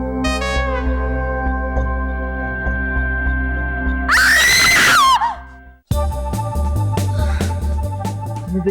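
A person screaming in a comedy drama scene, one loud shrill cry of about a second that cuts across dramatic background music, after which the music carries on alone.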